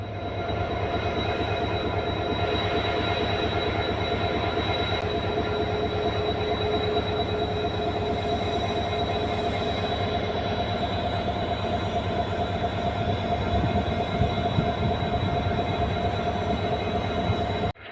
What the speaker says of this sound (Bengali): ট্রেন এখন আমাদের বামনার রেলওয়ে স্টেশন মানে শেষ রেলওয়ে স্টেশন পৌঁছে গেছে